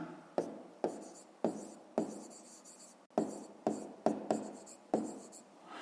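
Handwriting on paper while working a math exercise, producing scratchy pen strokes in short repeated bursts with brief pauses, close and quiet.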